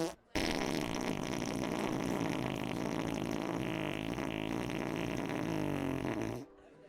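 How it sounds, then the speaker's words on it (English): A loud, long, continuous fart sound effect, buzzing and sputtering steadily for several seconds with no talk over it, then stopping suddenly. "That's a loud fart."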